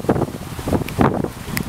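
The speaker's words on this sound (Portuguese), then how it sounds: "porque com esse vento não tá ajudando" Strong gusty wind at a skydiving site buffets the microphone in uneven rumbling surges, loud and close, with no voices.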